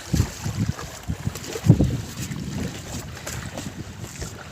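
A large boat moving across water near Vizag, with wind buffeting the microphone and irregular thumps and splashes of the hull and waves throughout.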